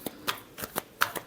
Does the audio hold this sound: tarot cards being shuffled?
yes